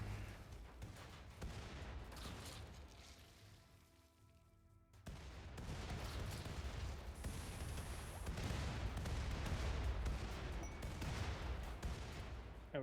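Heavy spinal laser barrage from RimWorld rendered as a dense, loud rolling volley of booming impacts, quieter at first then swelling into sustained thunderous fire with no talk.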